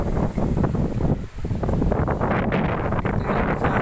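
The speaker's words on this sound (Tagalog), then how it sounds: "Napaka-preska na hangin." Wind gusts outdoors at a cool, breezy hilltop hangout, buffeting the microphone in a loud, continuous roar with a brief dip in the middle.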